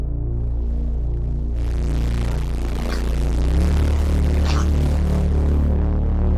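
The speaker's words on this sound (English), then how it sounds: "if you crank up this fuzz, it creates a kind of a white noise layer" A synth patch with a fuzz distortion plugin cranked up adds a hissing white-noise layer. A low pulsing, throbbing bass tone plays throughout, and the bright noise wash swells in partway and sits loud over it.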